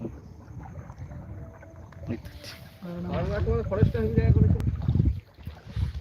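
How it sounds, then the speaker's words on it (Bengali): A boat's engine drones over rushing river water and wind on a trip to Sabuj Dwip from Balagarh ghat, with people talking loudly nearby in the middle stretch. "নৌকা নিয়ে যাচ্ছি"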